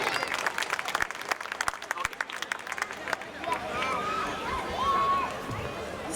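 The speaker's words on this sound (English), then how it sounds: "Round of applause." An audience bursts into applause, loud sharp claps and crowd noise at first that thin out into a murmur of chatter and background sound, with voices talking near the end.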